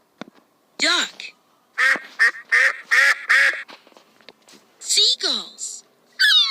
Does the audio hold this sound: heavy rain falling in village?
no